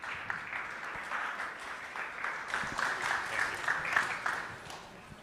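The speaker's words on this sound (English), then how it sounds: "So round of applause for them," A conference audience at a Brooklyn event applauds for a panel, a moderate, steady wash of clapping that swells slightly toward the end, heard without anyone speaking.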